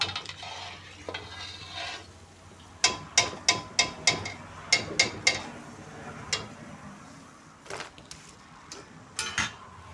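Methi puris fry in hot oil at home, with a soft sizzle broken by a quick run of sharp clinks and taps of a utensil against the pan, then sparser knocks near the end.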